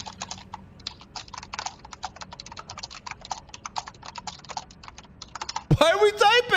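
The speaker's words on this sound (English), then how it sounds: "Why are we typing? They can hear us." Rapid clattering keystrokes on a computer keyboard, close and crisp in quick irregular bursts, before a voice starts speaking near the end.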